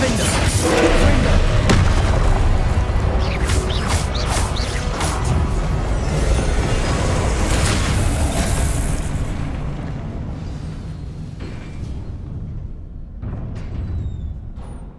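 Confringo spell explosions go off in the video game Hogwarts Legacy: loud booming blasts and crashes pile up over several seconds, then fade into quieter rumbling, with voices mixed in.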